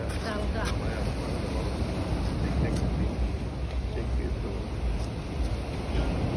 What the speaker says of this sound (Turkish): Rüzgar değil bu, dalga.